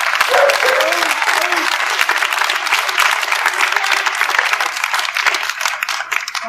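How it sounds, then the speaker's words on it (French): A dense crowd at an outdoor protest march claps steadily for a speaker, loud and sustained throughout, with voices talking faintly beneath the applause. "On l'applaudit s'il vous plaît."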